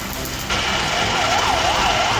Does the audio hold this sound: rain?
no